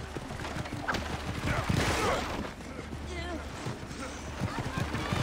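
Horses' hooves clip-clopping in Assassin's Creed Origins, a steady trotting patter of hoofbeats close by, mixed with game ambience and someone talking over it.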